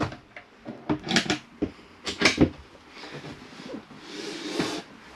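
A caravan storage drawer in a Chausson Welcome 630 slides and bangs shut, a few sharp knocks and thuds followed by a softer sliding rumble, close by with no talking.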